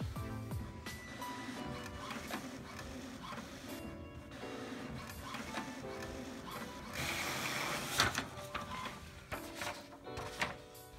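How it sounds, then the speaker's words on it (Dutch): An HP inkjet printer prints a page with fresh cartridges: whirring feed mechanics, ratcheting clicks and occasional thunks of the carriage, heard close and steady throughout. "Ik ga iets proberen af te drukken."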